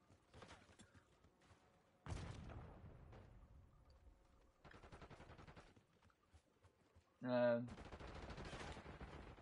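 Gunfire in the Black Ops 6 multiplayer shooter, several separate bursts of shots spaced across the clip with a sharp, louder blast near the end, and a player's voice heard briefly.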